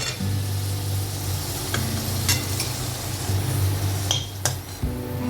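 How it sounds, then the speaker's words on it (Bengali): Turmeric-coated potatoes frying in oil for chicken dak bungalow, giving a steady sizzle over a low hum, with scattered clinks and scrapes of a utensil against the pan. "এটাতে হলুদ মাখানো যে আলুটা ছিল সেটা ভেজে নেব"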